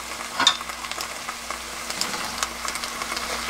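Spicy fish cakes sizzling and frying in a pan with soy sauce, a steady crackle broken by light stirring scrapes, close and moderately loud.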